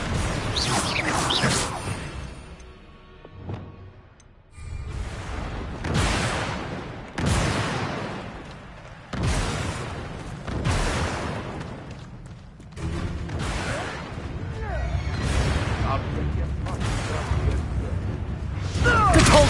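Fiery Confringo spell blasts in Hogwarts Legacy burst again and again as broad whooshing booms, each explosion rising and fading in quick succession, close and loud over dense combat noise and shouted voices.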